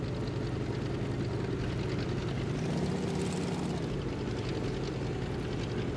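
Steady, loud propeller aircraft engine drone in the World of Warplanes video game, holding an even roar throughout with a slight swell in the middle.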